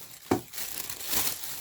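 Scissors snip through a thin plastic bag for a DIY watermelon fidget toy, with a sharp cut followed by soft crinkling rustle, close and fairly quiet, with no speech.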